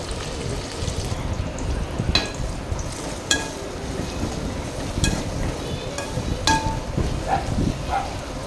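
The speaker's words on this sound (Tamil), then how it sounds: "பெரிய வெங்காயம் ஒரு 3 பீஸ் வெட்டி சேர்த்துக்கலாம். நீட்டாக வெட்டி சேர்த்து அதையும் கொஞ்சம் நாளாக வதக்கிக்கலாம்" Sliced onions sauté in a pan for chicken kulambu, making a steady soft sizzle close by, with occasional sharp clinks and scrapes of stirring throughout.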